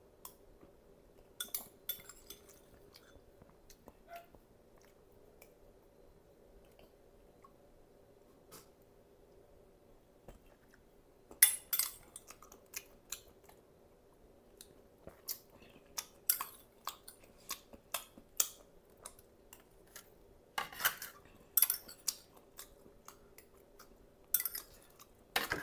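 Balut is eaten with cutlery in a quiet room: sparse, faint clinks and scrapes of utensils come in irregular bursts, with soft chewing between them and almost no talk.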